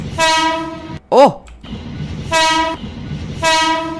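A loud train horn from a JR 205 commuter train in a Roblox game blares three times in long blasts, with a brief electronic sweep in between and a short exclamation from a voice.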